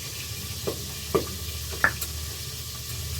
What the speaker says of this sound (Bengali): মাছটা তেলে দিয়ে দিয়েছি